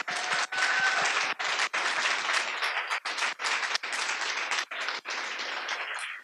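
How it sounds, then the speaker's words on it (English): An audience at a recovery celebration event applauds in a dense, sustained round of clapping, fairly loud and close, with brief dips as the clapping thins momentarily. "ask you all to join me in a round of applause for the Arlington Department of Human Services Behavioral Healthcare Division"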